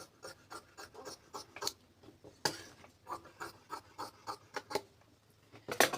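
Scissors snip through fabric while cutting a round dress neckline, half an inch from the pasting. The cuts come as a quick irregular series of crisp chops, close and fairly quiet, with no talk.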